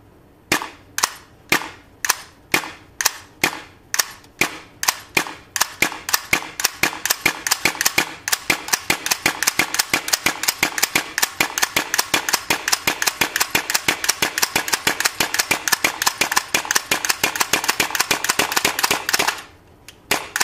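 A WE M4/M16 airsoft gas blowback rifle fitted with RA Tech parts fires sharp single shots at a steady pace, then speeds into fast, evenly spaced repeated cracks for many seconds before stopping, loud and close with no voices.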